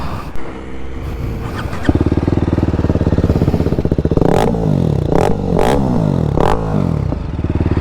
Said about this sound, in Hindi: एग्जॉस्ट की साउंड आप लोगों को सुनाते हैं, रुको